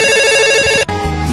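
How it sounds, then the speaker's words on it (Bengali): A phone ringtone plays loudly and up close, a steady electronic melody that shifts to a new tone partway through, with no voices. "একটা ফোন দিয়ে দেখি কোথায় আছে"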